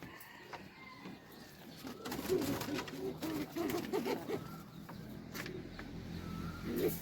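Local domestic pigeons in a coop coo in low, repeated throaty bursts near the listener, with faint rustles and a few sharp knocks around them.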